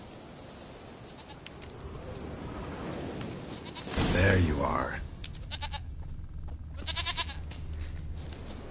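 A goat in the video game The Witcher 3 gives a loud bleat partway through, with game ambience and someone speaking around it.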